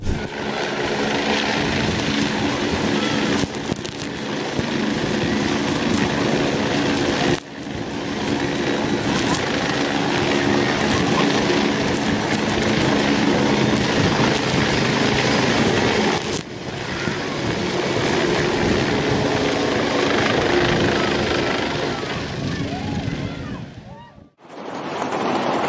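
A firefighting helicopter in Portugal during a forest fire, loud continuous rotor and engine roar with steady thrum and a high whine, holding nearly constant for about twenty-five seconds before cutting off abruptly.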